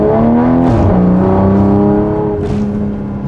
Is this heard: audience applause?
no